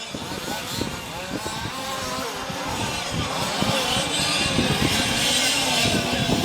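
Rallycross race cars, including a green-and-black liveried car, drive around a track at Ylistaro, engines roaring continuously at a steady distance while a commentator talks over the noise.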